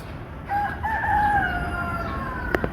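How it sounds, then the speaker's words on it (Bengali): A rooster crows loudly nearby, one long drawn-out call rising and falling, followed by a few brief clicks. "দেখেন কত সুন্দর মুরগি ডাকছে"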